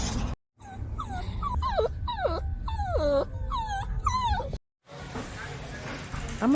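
A dog whimpers and whines in a rising-and-falling series of high, drawn-out cries during a car ride, repeated several times close by over a low vehicle rumble.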